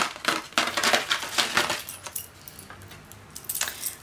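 A necklace is unwrapped from paper, with metallic chain clinks and jingles mixed with light paper rustling, close and moderately loud, fading after a few seconds.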